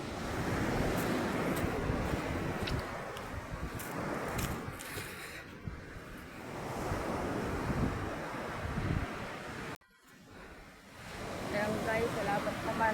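Sea waves wash and surge at a beach in a loud, continuous broadband roar, with wind buffeting the microphone and a brief dropout near the end.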